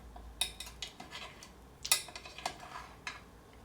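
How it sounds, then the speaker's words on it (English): Cooked eggs being moved onto a cutting board, with light clinks and taps of a utensil in a quick irregular series, close and quiet, with no talking. "Let's just transfer these onto the cutting board"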